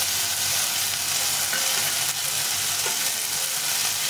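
Green chili, cumin and ginger paste hitting a hot pan of fried tomato, a dense, continuous loud sizzle close up with faint stirring.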